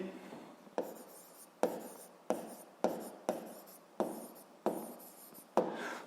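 A pen writes on paper in a classroom in short repeated strokes, about nine scratchy bursts each starting with a tap and trailing off, close and alone.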